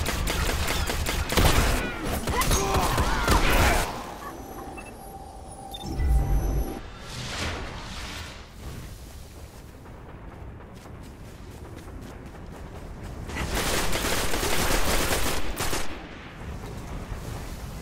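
Gunfire in a Crucible match of the video game Destiny, loud bursts of rapid automatic fire in separate volleys with quieter stretches between them, no talking.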